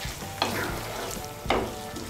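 Water being stirred into a spiced tomato mixture in a pan, a bubbling simmer under two distinct spoon scrapes, close and fairly loud, with no voices.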